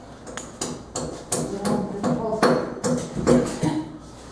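A hammer strikes red anchors in a cafe kitchen ceiling: about a dozen sharp metallic knocks in a fairly steady rhythm, close and moderately loud, with faint background noise between hits.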